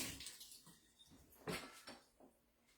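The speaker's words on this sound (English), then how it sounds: "I'm just going to rinse my parsley." Fresh parsley is rinsed under running kitchen water, producing brief, soft splashing bursts and a gentle water rush.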